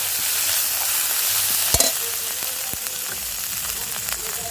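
Ginger and turmeric powder fry in a pan with a steady, close sizzle, broken by a brief clatter as the mixture is stirred; no talking.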